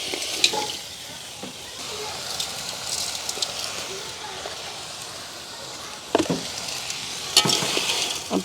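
Crab curry with added salt being stirred in a pot: a soft, continuous sizzle with a few scraping spoon strokes and clinks, the louder scrapes coming near the end.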